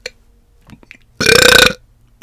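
A single loud, close burp lasts about half a second after near silence, with faint low rustles before it.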